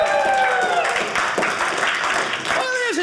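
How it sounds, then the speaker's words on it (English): Audience applause for a guest at a comedy show, with cheering crowd noise under a voice speaking loudly over the clapping throughout. "Let's have a round of applause for Jay Leno"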